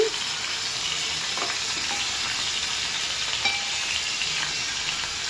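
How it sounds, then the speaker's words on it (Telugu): Eggs frying in oil in a pan, giving a steady, close, dense sizzle throughout with a few faint clicks and pops, and no talking. "ఇట్లా ఈ విధంగా ఆయిల్ వేసుకొని ఏం కాదు, కొంచెం దోరగా వేయించుకోవాలి."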